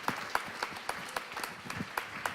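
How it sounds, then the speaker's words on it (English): An audience applauding after a keynote speech, a moderate, steady patter of many hands clapping with a few sharper individual claps standing out, heard without talk. "when we're done applauding and take your time"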